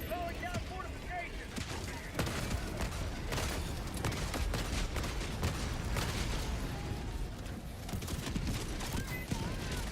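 A sentry turret in Helldivers 2 fires sustained bursts of gunfire amid a noisy battle, with rapid popping shots and scattered impacts over a steady din that stays at a moderate distance throughout.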